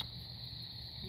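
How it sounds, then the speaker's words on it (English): Crickets chirp in a continuous high-pitched trill, faint and steady, against a quiet outdoor background near a campfire. "Hear the crickets"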